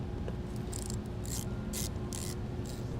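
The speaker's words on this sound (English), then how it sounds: "and a 10mm socket, we can remove that nut." A 10mm socket ratchet works on a nut while a compressor is being set up, giving short bursts of quick clicking that repeat about five times over a steady low hum.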